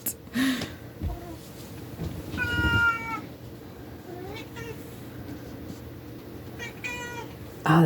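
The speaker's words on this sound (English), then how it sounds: "My cat." A pet cat meows a few times indoors, short tonal calls spread across a quiet room with faint handling noises between them.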